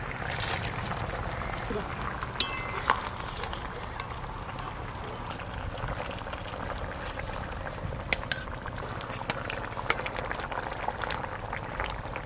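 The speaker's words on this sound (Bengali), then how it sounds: "ঝোল খুব ভালো করে ফুটে গেছে" Hilsa fish and cauliflower curry gravy boiling in a pan, a steady, close bubbling and gurgling with occasional small pops.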